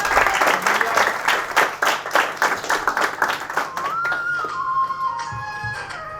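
A comedy show audience breaks into loud, dense applause that lasts about four seconds, then thins out and gives way to a sustained electronic tone.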